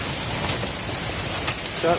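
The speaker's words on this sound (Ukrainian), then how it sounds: "Зараз починається град." Hail beginning to fall outdoors in a July storm, a steady dense patter of stones striking surfaces like heavy rain, with brief louder impacts and a faint voice near the end.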